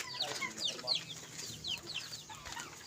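Several hens cluck and squawk in quick irregular bursts around a poultry yard, loud and close at first, then scattered and softer, over a faint background hum.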